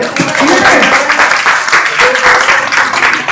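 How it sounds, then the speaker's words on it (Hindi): Applause from a crowd at a Babasaheb Ambedkar Jayanti gathering in Kailash Nagar, Ghaziabad, a steady dense clapping that stays loud and fills the whole stretch, with voices mixed in underneath. "ताली नहीं बजाएगी किसी ने, इस बार क्या बात है"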